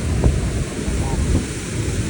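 Wind gusts buffet the microphone in low rumbling thumps over a continuous rushing background at Niagara Falls, close and fairly loud.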